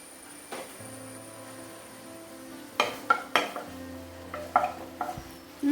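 Ginger, garlic and chili are sautéed in heated coconut oil: a quiet stretch with a faint sizzle, then a cluster of spatula scrapes and metallic clinks against the pan, close and moderately loud, with no talking.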